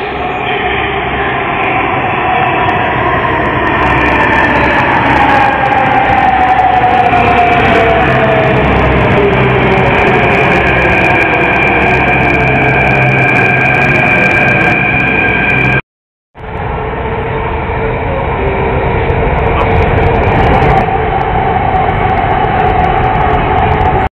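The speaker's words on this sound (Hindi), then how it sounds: "सामने आ रही है हमारी मेट्रो।" A Delhi Metro train pulls into a station platform, a loud sustained rumble with rising and falling whine tones that runs steadily throughout, broken by one brief silent gap before the noise resumes.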